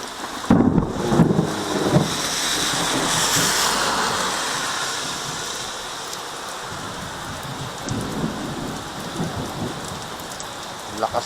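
Thunder rumbles through a lightning storm, rolling and booming over steady heavy rain pattering on surfaces, with several louder crashes early on and a continuous wash of downpour throughout.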